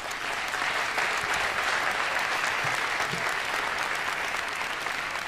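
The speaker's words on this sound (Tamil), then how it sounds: "ஒரு தடவை கைதட்டுங்க." An audience at a golden jubilee celebration of a Tamil film claps steadily in a sustained round of applause. The clapping is dense and even from start to finish.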